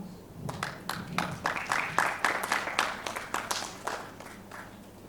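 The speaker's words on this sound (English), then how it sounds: "Please give Annie a round of applause" A small audience at a high school English speech competition claps for the next contestant, sparse, distinct claps that thicken into a modest, uneven round and then thin out.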